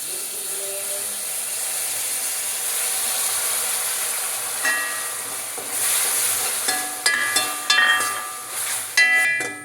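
Spice powders mixed in water, including garam masala and coriander powder, poured into a hot pan for a vegetable kurma, bringing a steady hiss followed by a burst of sizzling and clattering spoon strokes.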